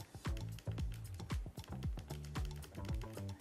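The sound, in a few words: e-reader page turn button clicks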